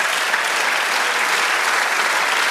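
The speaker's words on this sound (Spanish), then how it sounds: "Dar un aplauso al Señor." A church congregation applauds at a worship service, producing dense, loud and steady clapping that fills the whole moment without a break and with no voices on top.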